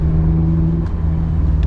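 A 2024 Mazda MX-5 Miata ND3 Grand Touring with an aftermarket exhaust on a race track, its engine and exhaust holding a loud, steady, close droning rumble throughout, with no one talking.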